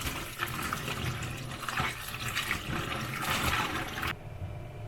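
Crab pieces being washed under a running tap, a steady rushing splash of water for several seconds before it cuts off abruptly.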